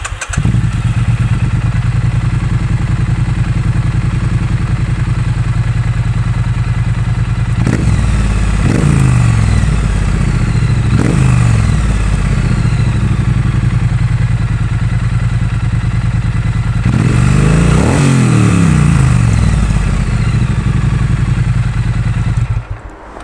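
Triumph Street Twin motorcycle with a US-spec Vance and Hines exhaust, baffles removed, idling loud and close with a deep, throbbing burble and several sharp revs blipped between steady running.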